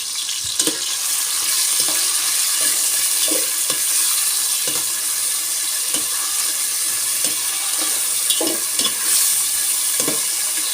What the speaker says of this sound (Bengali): তেল আর পেঁয়াজ দিয়ে দিলাম তারপরে দিয়ে দিব সামান্য তেজপাতা